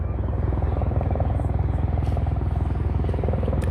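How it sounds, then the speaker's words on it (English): A helicopter flies over San Diego Harbor, its rotor beating in a loud, steady rapid chop that carries throughout, with a faint whine above it. "Now there is a helicopter."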